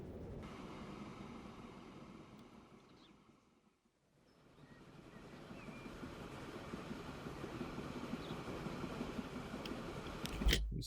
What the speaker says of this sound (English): We have to wait for this train to clear its this junction here.